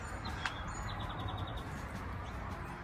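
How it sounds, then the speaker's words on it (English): A bird chirps outdoors in a snowy Cincinnati yard, a few short high tweets and one quick run of rapid chirps over steady low outdoor rumble, faint and somewhat distant. "Oh, hey, bird."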